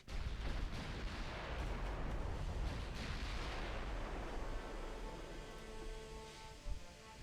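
Secondary guns on a battleship fire in the naval video game Ultimate Admiral: Dreadnoughts, a loud rolling barrage of overlapping booms that slowly thins and fades.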